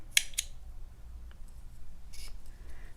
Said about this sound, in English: then you're going to chain 1 and cut your yarn